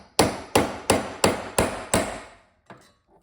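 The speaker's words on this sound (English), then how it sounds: "And you're just going to hammer it." Six sharp, evenly spaced hammer blows on a punch tool setting a rivet flush during a taxi restoration, loud and close, followed by a pause and a faint final tap.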